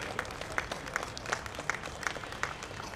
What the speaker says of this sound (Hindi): जोरदार तालियों के साथ हम लोग उनको मंच पर स्वागत करें